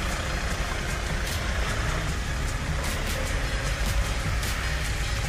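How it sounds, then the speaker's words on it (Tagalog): Heavy road traffic of cars and trucks on a slushy, snowy road forms a steady, dense rumble with engine drone, loud and continuous, with no voices over it. "Grabe ang traffic, oh."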